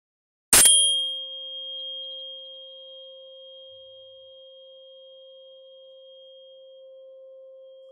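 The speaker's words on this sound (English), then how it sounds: "I'm going to play the 528 hertz." A single 528 hertz sine tone starts with a bright bell-like strike, then holds steady and pure for several seconds, slowly fading to a quiet sustained hum with no voices.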